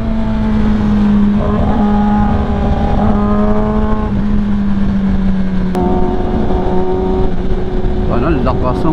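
Kawasaki ZX10R, Ninja 400 and ZX6R motorcycles racing downhill on the Marilaque road, recorded on board: a loud, continuous engine whine rising and falling through gear changes, with wind rush and a sharp shift near the end.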